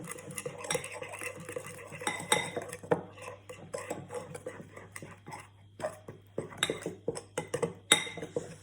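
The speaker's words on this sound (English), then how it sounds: "I'm going to mix it up." Yoghurt flatbread dough with olive oil is stirred in a bowl, close irregular clinks and scrapes of a utensil against the bowl in an uneven rhythm, with no voices.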